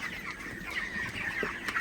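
Broiler chickens cluck and chatter continuously nearby, overlapping calls from several birds with a few sharper squawks rising above the flock.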